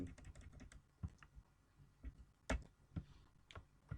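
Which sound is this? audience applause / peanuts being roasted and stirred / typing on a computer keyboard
typing on a computer keyboard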